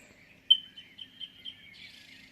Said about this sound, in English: But it just seems like dead quiet apart from the birds.